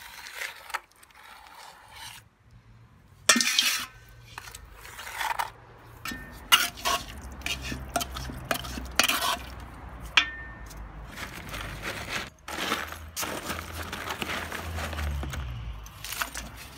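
Gritty scraping and clinking as broken insulating brick grog is stirred into a forge lining mix for a propane bottle forge, in irregular bursts of scrapes and knocks, fairly close, with no talk.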